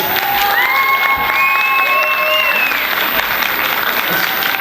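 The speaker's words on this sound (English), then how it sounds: "Another round of applause for Arya Dance Academy, please." A large crowd claps and cheers loudly for a dance academy's performance, dense sustained applause with whistles and shouts rising through the middle before settling.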